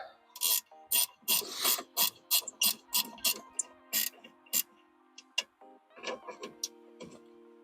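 Twelve-millimetre caliper bolts on a 1996 Honda CRX Del Sol brake are worked with a ratchet, a quick run of close, crisp clicking bursts, then sparser clicks and faint metallic taps, no talking.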